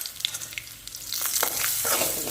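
Fasting-day vegetables with salt and cumin powder sautéing in a pan, a soft close sizzle that swells into a steadier, hissing fry with light stirring sounds.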